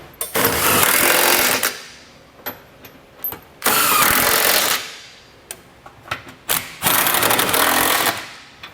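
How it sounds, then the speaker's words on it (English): A power tool with a 22mm socket drives trailer hitch bolts on a 2019 Honda Passport in loud whirring bursts, three long runs separated by shorter blips and clanks, close up, with no voices. "We can go back and run them down with a 22mm socket."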